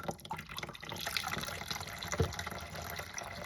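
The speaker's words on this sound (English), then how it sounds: "Okay, now this will completely siphon out." Water draining from a cutaway toilet as it siphons out, a continuous soft gurgling and trickling flow with faint drips, fairly quiet and close with no talking.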